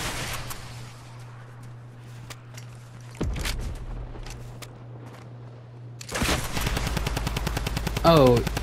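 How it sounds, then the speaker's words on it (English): Video game gunfire in Fortnite: repeated shots crack out as bursts across the clip, with a dense rapid volley near the end, over a steady low hum and faint game sounds. "John Ace taking the first shot."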